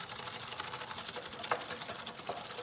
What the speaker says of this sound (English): And just whisk this up